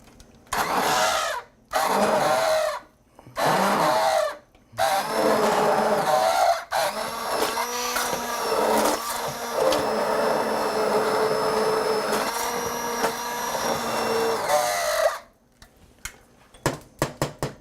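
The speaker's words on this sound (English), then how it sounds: "I am going to use the blender. I find I use the immersion blender quite a bit." Immersion blender whirring through cauliflower soup in a home kitchen, several short loud pulses followed by a long continuous motor whine with shifting pitch, then a few quick bursts at the end, close and alone.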